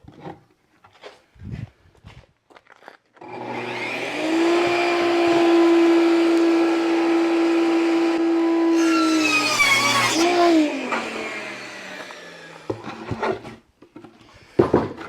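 A power saw rips a pine board to width, starting with a loud whine, running as a sustained cut for about six seconds, then spinning down. Scattered workshop clatter and handling noises come before and after.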